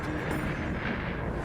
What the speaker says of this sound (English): This is what's called a strombolian eruption, named after the active Stromboli volcano in Italy.